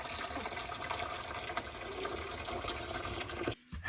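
Hot water lifted off a camper heater pours from its container in a steady close splashing stream that cuts off sharply near the end.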